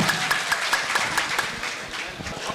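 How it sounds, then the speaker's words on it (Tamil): An audience at a police training family function claps in a dense, continuous applause, steady and fairly loud, with the crowd wash filling the room for the whole stretch. "அதற்கு மீண்டும் ஒரு கரகோஷத்தை கேட்டுக்கொள்கிறேன்"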